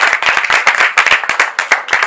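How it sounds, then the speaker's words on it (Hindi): Audience at a short film on the Clean India campaign clapping to welcome a young political leader to the stage; fairly loud, uneven hand claps with distinct individual slaps, heard alone for about two seconds. "तालियों के साथ इनका स्वागत कीजिए।"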